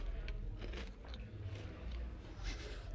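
Shrimp chips are bitten and crunched close up, giving several crisp crackling bites and chewing sounds in quick succession.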